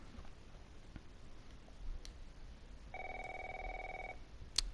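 A telephone rings once in The Last of Us Remastered, a faint electronic double-toned ring over quiet game ambience, with small clicks around it.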